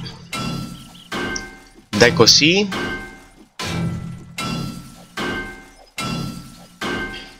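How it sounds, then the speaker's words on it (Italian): A hammer strikes repeatedly in the 7 Days to Die video game, with about seven evenly spaced, hard thunks, one with a crunchy glassy crack. Someone speaks briefly over one blow. "Ancora qualche martellata."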